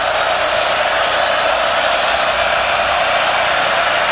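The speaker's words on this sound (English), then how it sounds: "Crowd trying to help him." Steady, loud stadium crowd roar at a 2021 Iowa Hawkeyes vs. Iowa State Cyclones college football game as the defense faces 3rd and 9. The dense wash of noise holds unbroken throughout, with no distinct voices.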